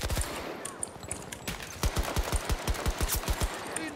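Automatic weapon fire in Battlefield 2042, a rapid rhythmic burst of sharp shots rattling off in quick succession, fairly close, following a short quieter stretch of background game ambience.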